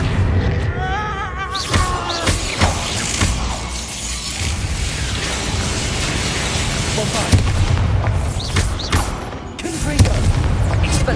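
An Expulso explosion spell goes off in Hogwarts Legacy amid a dense, loud mix of booms, crackling blasts and shattering debris, with several sharp bursts spread across the stretch and a voice calling out over the din.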